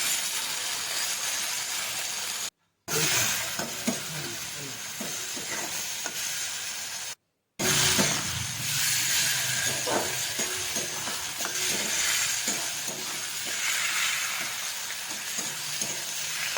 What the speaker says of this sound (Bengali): টমেটোটা দিয়ে ভালো করে জিনিসটাকে মিক্স করে নিলাম